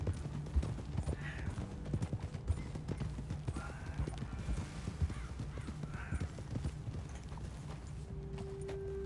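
Horses trotting in the Red Dead Redemption 2 video game, a steady run of soft hoof clip-clops with a couple of neighs mixed in, faint and continuous with no talking.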